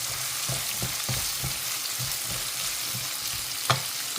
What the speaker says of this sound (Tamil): இப்போ வெங்காயம் போட்டுடலாம் நீங்கள் நல்லா வதக்கிக்கலாம்